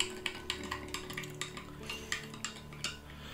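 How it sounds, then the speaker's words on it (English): A utensil stirs an MRE powdered beverage in a cup, making quick, light, regular clinks against the sides, close and fairly quiet, with no one speaking. "just give that a stir"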